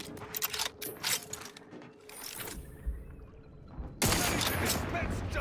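A sniper rifle in The Outer Worlds 2 video game fires at a Raptidon Hunter: one sharp, loud blast near the end after quieter mechanical clicks, with someone talking earlier.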